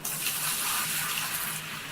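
Water pours steadily in Gold Rush: The Game, a continuous bright splashing gush like a tap filling a container, fairly loud and unbroken for two seconds before easing slightly at the end.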